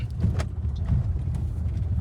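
Car descending a hill on engine braking in the Spiti Valley mountains, a low, uneven cabin rumble with road noise and a few light knocks and rattles.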